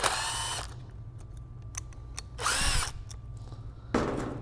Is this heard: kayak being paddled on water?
no